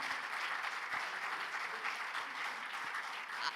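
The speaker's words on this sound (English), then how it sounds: "that deserves a clap" An audience at a neuroscience talk claps steadily, a soft, even wash of applause heard from some distance and fairly faint throughout.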